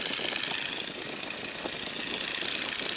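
A Stearman biplane's 220-horsepower radial engine runs up toward full throttle, a loud, steady, dense roar with a rough knocking texture that fills the whole clip, no voices.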